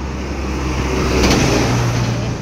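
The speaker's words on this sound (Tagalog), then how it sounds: "Dami sasakyan man." Busy roadway with many cars passing close by, a continuous loud rush of engines and tyre noise swelling as vehicles go past, with no talking.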